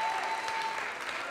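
A church congregation claps during a sermon, making a dense, steady wash of applause that stays loud and continuous from start to finish.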